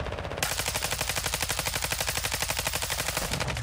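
Rapid automatic gunfire in Call of Duty Modern Warfare II DMZ, a steady fast burst of shots running almost the whole time, loud and close, with no talking.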